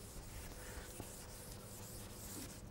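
Writing rubbed off a board with an eraser, a faint continuous scrubbing swish with a soft rhythmic back-and-forth, no talk.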